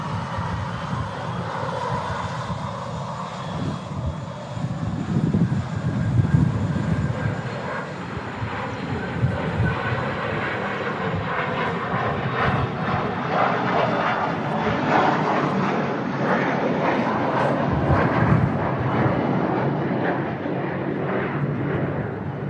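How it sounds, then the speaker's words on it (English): An EasyJet airliner landing at Manchester Airport in strong crosswinds, arriving from Palma de Mallorca: a loud, sustained jet engine roar that swells and rumbles steadily, with wind noise, heard alone without talk. "Another EasyJet into landing from Palma de Mallorca."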